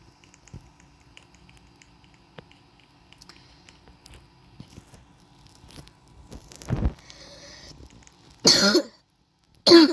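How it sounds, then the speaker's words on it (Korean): In the video game Death Ball 2, after quiet scattered rustling, a few sharp, harsh coughs burst out close by, one after another with pauses between them. "기침을 하네."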